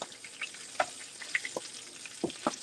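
Whiting fish fries in a hot pan as it is turned, giving a close crackling sizzle broken by several sharp spitting pops and a brief scrape.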